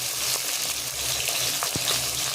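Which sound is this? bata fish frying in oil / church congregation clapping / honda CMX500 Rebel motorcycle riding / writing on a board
bata fish frying in oil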